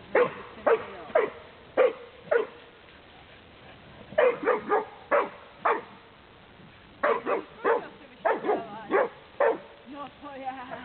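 A dog barks on command in a series of short, sharp barks in bursts, close and loud, with a person speaking commands between and over them.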